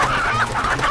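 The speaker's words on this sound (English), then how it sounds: "Chicken." Repeated clucking from a chicken character in a zombie chicken video game, a close, loud, steady run of squawky fowl calls filling the whole second with no talk over it.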